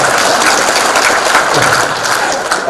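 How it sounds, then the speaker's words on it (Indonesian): A crowd claps steadily in dense, sustained applause throughout, loud and close, with no voices standing out. "Makanya kalau yang boleh tepuk tangan buat beliau."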